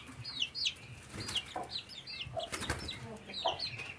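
A Sebright hen clucks softly and repeatedly, calling her chicks, and thin high peeps come in between the clucks at close range.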